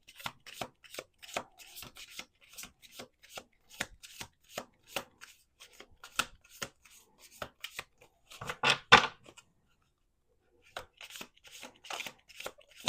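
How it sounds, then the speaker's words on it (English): A tarot deck is overhand shuffled in a long run of soft, rapid card slaps, close and fairly quiet, with one denser riffle near the end before a brief silence. "Let's do 2 more shuffles."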